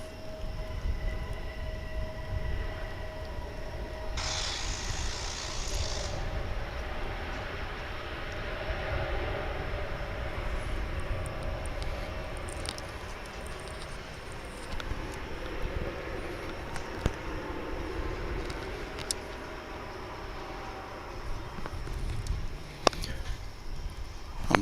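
Jet airliner on the El Paso service rumbling at Dallas/Fort Worth International Airport, a steady broad engine roar held for the whole stretch with a brief high whine early on, fairly distant and continuous.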